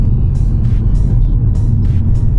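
An Audi with a new clutch and flywheel drives along, a steady low engine and road rumble filling the cabin, broken by a few short hissy bursts.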